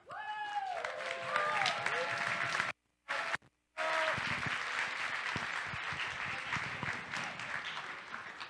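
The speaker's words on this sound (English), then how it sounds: "I want to just give a big round of applause to Ziggy." An audience at a closing ceremony applauds with a dense, even wash of clapping, with a brief dropout partway through and some faint voices in the background.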